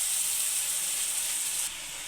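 Turmeric, salt and spices sizzle in hot oil in a pan while stuffed kantola (spiny gourd) curry is prepared, a steady bright hiss that drops slightly in level near the end, with no talking.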